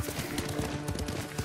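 Horse hooves clip-clop at a steady riding rhythm in Ghost of Tsushima, a close, evenly paced series of thuds with faint ambient background.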